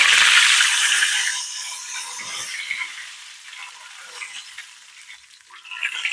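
A Bloomin' Onion dropped into 375-degree oil hisses in a loud, bright sizzle that peaks at first, then settles into a softer, steady bubbling fry with a slight swell at the end.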